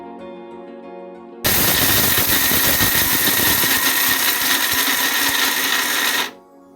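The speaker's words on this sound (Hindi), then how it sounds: "अब सारे ड्राई फ्रूट को हमें पीस लेना है।" An electric grinder whirs loudly for about five seconds as it grinds almonds and other dry fruits. The motor starts abruptly after a quieter hum, holds a steady, harsh rattle, and then cuts off.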